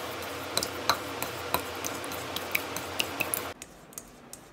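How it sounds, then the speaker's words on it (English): A homemade body butter mixture is stirred in a bowl, with a utensil scraping and clicking against the sides in irregular taps. The stirring stops near the end, leaving a quieter tail. "Now I'm done with the ingredients and I'm going to mix it very well."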